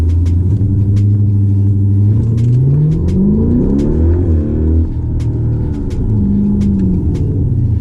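A 2012 Hyundai Genesis 5.0 R-Spec V8 with about 140,000 miles, launched at 1500 rpm and losing traction, roars loudly and steadily as its engine pitch climbs, drops with each shift, and climbs again while accelerating hard from a standstill.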